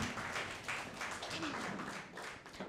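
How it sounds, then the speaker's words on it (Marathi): Audience applause at a Marathi felicitation event, a steady broadband patter of many hands clapping that swells and dips, with faint voices mixed underneath. "वाजवूया आपण टाळ्या"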